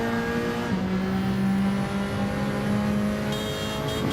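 Race car engine in Gran Turismo on PSVR2, a loud sustained high-revving drone with steady engine tones shifting pitch as it holds speed, plus a faint tire squeal near the end.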